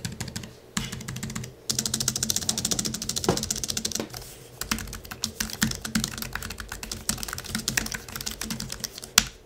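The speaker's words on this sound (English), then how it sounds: "let's do a little typing test for y'all to hear what the keyboard actually sounds like when" Steady bursts of key presses on a Jelly Comb K62BA-3 backlit Bluetooth keyboard for Mac, close and fairly quiet, with dense rapid clicking and short pauses between runs.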